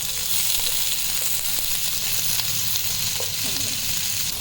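White and green bell peppers fry in a hot pan for chilli chicken, giving a constant, fairly loud sizzle with faint stirring taps.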